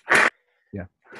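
A single sharp sneeze bursts out near the start during an indoor festival conversation, followed by brief murmured voices.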